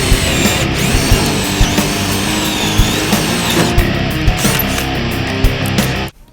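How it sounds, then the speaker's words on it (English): A power drill whines steadily with a high motor pitch and faint grinding as it drills an 11/32-inch hole down through the top of a metal truck bed, then cuts off abruptly near the end. "we're going to have to drill our 11/32 hole down through the top of the truck bed"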